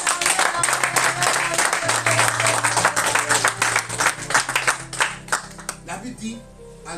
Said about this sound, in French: Ça vaut une acclamation.